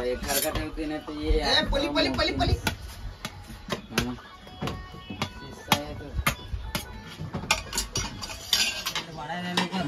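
Cutlery and dishes clink and scrape as rice is served on a fishing boat, with repeated sharp metallic taps and clatters under ongoing talk.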